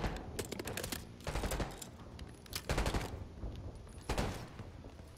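Gunfire in the video game Call of Duty Black Ops 6, quiet bursts of rapid shots in several separate volleys, fairly distant and subdued.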